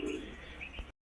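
Pigeons coo softly at close range in a short, low, murmuring call that cuts off abruptly.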